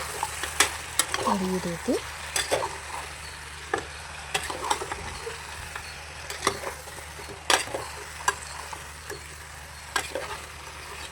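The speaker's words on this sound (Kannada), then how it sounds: "ಇದನ್ನು ಎಣ್ಣೆಯಲ್ಲೇ ಸ್ವಲ್ಪ ಚೆನ್ನಾಗಿ ಫ್ರೈ ಮಾಡ್ಕೊಳ್ಳೋಣ." Goat head meat fries in oil while being stirred, a steady low sizzle broken by repeated sharp scraping clicks of a spoon against the pan; a voice briefly speaks once.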